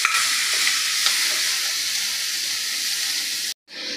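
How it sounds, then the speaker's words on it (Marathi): Cluster beans with a pinch of turmeric sauté in a hot pan, giving a bright, close, continuous sizzle with light stirring clicks before an abrupt brief cut near the end. "आता ही गवार आपल्याला 3 ते 4 मिनिटासाठी फक्त परतून घ्यायची आहे"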